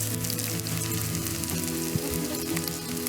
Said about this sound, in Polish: Najpierw zacznę od cebulki, wrzucamy na rozgrzany tłuszcz.